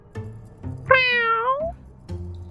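A cat gives a single clear, close meow that rises and then slides downward, set between quieter background sounds.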